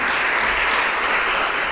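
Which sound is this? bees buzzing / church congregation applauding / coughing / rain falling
church congregation applauding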